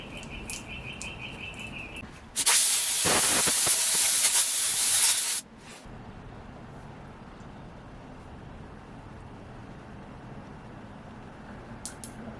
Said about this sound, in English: This took a long time to steam this apart.